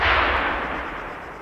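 A single rifle shot fired through a PSO-1 scope in the game Arma 3: one loud close crack that rolls off into a fading, rumbling tail.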